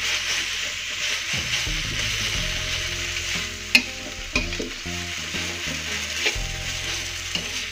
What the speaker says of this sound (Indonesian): Ini malam ini kita memasak bayam tumis.